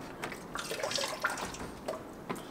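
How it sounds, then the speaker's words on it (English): Engine coolant from a Toyota 1JZ engine pours and splashes steadily into a bucket, a close trickling stream with small drips and no talking. "I'm just pouring the coolant into the bucket, don't mind me."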